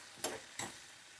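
A pan of frying food gets stirred and flipped, two quick scraping clatters standing out against a soft, steady sizzle; close and fairly quiet, with no talking.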